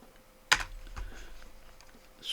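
Keys tapped on a computer keyboard while renaming a layer in Affinity Photo: one sharp, close keystroke followed by a few softer, scattered taps in a quiet room.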